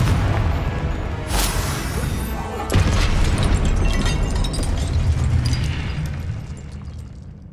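A Confringo blasting spell detonates in Hogwarts Legacy with a booming explosion, followed by a second heavy blast and a long rumbling, crackling tail that slowly fades.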